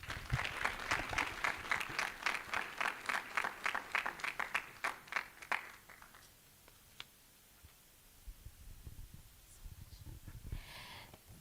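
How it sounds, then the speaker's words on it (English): An audience at a conference claps after a speech, a steady burst of applause for about six seconds that then fades, leaving low murmuring and faint rustling. "Another round of applause, please."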